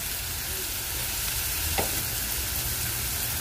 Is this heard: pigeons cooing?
no